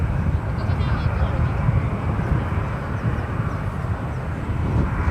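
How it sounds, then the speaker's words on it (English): United Airlines airliner departing San Francisco International Airport toward Houston, a loud, sustained jet engine roar holding steady and close, with no clear talk over it. "That is United Airlines Flight 2260 heading to Houston"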